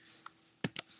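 A few light computer keyboard keystrokes entering a password: one faint tap, then two louder close clicks in quick succession.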